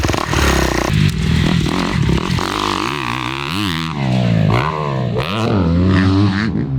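A dirt bike rips through the inside rut of a motocross track, its engine revving hard and rising and falling in pitch, with clattering and scraping from the bike and dirt.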